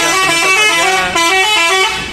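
A Hino bus of the MPM line blares its horn at the Bukit Surungan bus terminal, a loud, sustained multi-tone honk lasting about two seconds with a brief dip midway, close and dominant over faint traffic.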